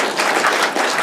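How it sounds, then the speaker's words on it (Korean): A lecture audience bursting into applause, a dense wash of many hands clapping together at close range for a brief moment. "박수 한번 쳐줍시다"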